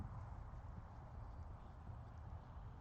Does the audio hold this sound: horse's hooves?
yes